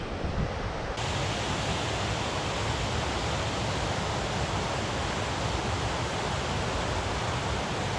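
Rockway Falls, a waterfall emptying toward Lake Ontario, heard from the bottom of the steps: a dense, constant roar of rushing water, loud and even throughout, with no voices.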